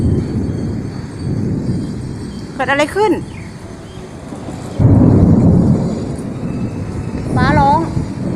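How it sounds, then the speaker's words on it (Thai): Thunder rumbles and strong gusting wind from an approaching storm in Pattaya fill the clip with a loud, continuous low roar that swells midway, while people talk briefly over it. "ฟ้าร้องลมแรงพายุกำลังจะมา"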